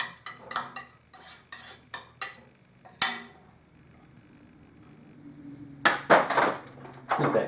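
Oil paint mixed into earthy greens with a palette knife: a rapid series of close, light scraping and tapping strokes, then a near-silent pause, then another burst of scraping.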